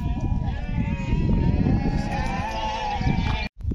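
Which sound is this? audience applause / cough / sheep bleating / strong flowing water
sheep bleating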